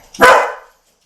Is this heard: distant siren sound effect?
no